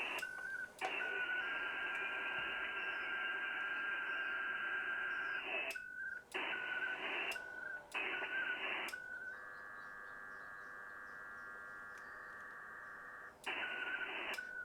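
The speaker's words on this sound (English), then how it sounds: "And now we're transmitting. I'm going to turn this up so you guys can hear it. I know there's a lot of static." Radio data transmission static while sending an email over a radio link: hissing bursts broken by short gaps, with a steady tone joining partway through.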